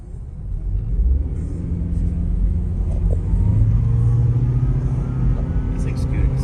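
Toyota Prius V pulling away on a test drive, a steady low road rumble and engine hum building gently and holding throughout, with faint cabin noise.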